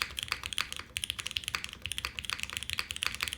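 Typing on The Eden 60% mechanical keyboard with O-rings, a brisk run of close, crisp keystroke clacks in an uneven rhythm, with a brief pause near the start, alone without talk.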